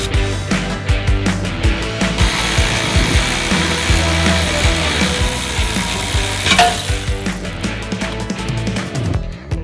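A hand ratchet clicks in quick, loud bursts while backing out a long sway bar trailing link bolt on an Audi RS3 during a lowering-spring and spacer install, the close metallic pawl chatter continuing almost without pause.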